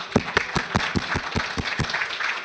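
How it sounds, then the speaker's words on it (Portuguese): An audience applauds after a presentation on smart, sustainable cities of the future, with a dozen or so steady claps ringing out clearly, close and fairly loud, and no talk over them. "Uma salva de palmas"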